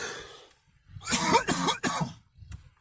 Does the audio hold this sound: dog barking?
no